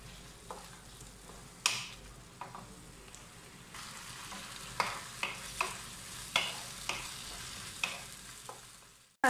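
Tomato and onion sautéing in an uncovered pan for tomato chutney, a soft steady sizzle with occasional sharp spoon scrapes and taps against the pan, close but quiet.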